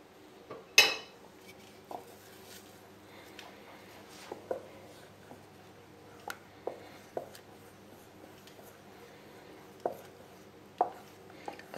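Chocolate glaze being stirred together with bloomed gelatin in a bowl: quiet, sparse clinks and taps of a utensil against the container, with one sharper knock near the start and otherwise a hushed background.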